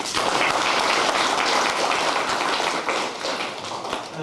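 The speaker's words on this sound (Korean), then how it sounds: "우리 모두 박수로서 축원해 주시기 바랍니다" Guests at a 60th birthday celebration applauding together, a dense, steady roar of many hands clapping that stays loud throughout and eases slightly toward the end.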